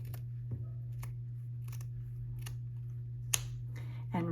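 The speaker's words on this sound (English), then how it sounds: "I'm going to cut off the edge right here." Scissors snipping off the edge of journal trim, a series of small crisp cuts spread over a few seconds over a constant low electrical hum, close and fairly faint, with no talking.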